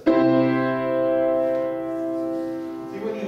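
A single sustained two-note chord, root and third only, rings out at once and slowly decays with rich harmonics, alone and fairly close.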